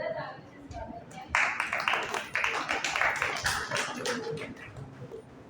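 An audience at a Hindi Diwas celebration claps to welcome a student's poem recital, a burst of applause that swells quickly, holds steady, then thins out.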